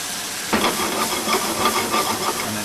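Beef stew hits a pan of mushrooms with a sudden loud hiss, then a steady close sizzle and bubbling fry continues with faint stirring, no voices heard.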